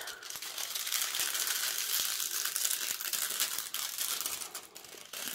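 Thin plastic film on a round diamond painting kit crinkles and crackles continuously, close and fairly loud, with irregular sharp snaps throughout and no talking.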